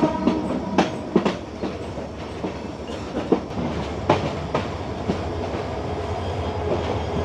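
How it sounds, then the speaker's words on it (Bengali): A night train from Dhaka to Cox's Bazar pulls away, its wheels beating out an uneven clickety-clack of sharp rail joint knocks over a low, steady rumble, fairly close and with no voices. "আমাদের ট্রেনটি কিন্তু এখন ছেড়ে দিল"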